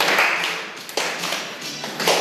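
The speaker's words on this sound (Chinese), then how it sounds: "拍手扭动身体" Scattered hand claps and taps from Taiwanese and Japanese high school baseball players in a dugout on a rainy day, holding a dance-off. The claps are sparse and moderately close, heard over a steady wash of rain-like noise.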